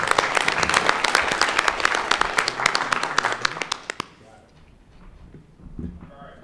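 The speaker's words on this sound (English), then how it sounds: "let's give these guys a round of applause" A round of applause breaks out in the audience at a county spelling bee for 7th and 8th graders, brisk, dense clapping for about four seconds, then cutting off to a quiet room with faint movement.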